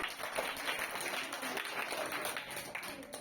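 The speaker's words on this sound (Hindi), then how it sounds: "आप अपने लिए पहले एक बार तालियां बजाएं प्लीज।" Children at a school communication-skills activity applaud themselves, a dense, even patter of many small hands clapping steadily at moderate volume.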